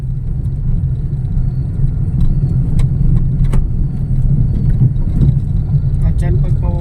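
A vehicle descends the Atimonan zigzag road at night, engine braking in second gear with a steady low rumble that holds throughout, while people talk inside the cabin.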